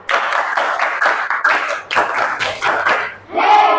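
Class of students clapping hands together in rhythm during a lesson, a string of quick sharp claps in small groups mixed with voices, fairly close.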